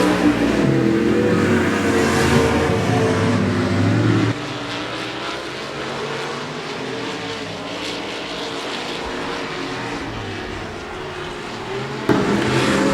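Race cars roar around the 105 Speedway oval, a loud, continuous engine drone that swells and shifts as cars pass, then drops to a steadier, more distant rumble before surging again near the end.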